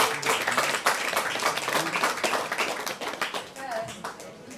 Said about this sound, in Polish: I myślę, że brawa się tutaj powinny pojawić.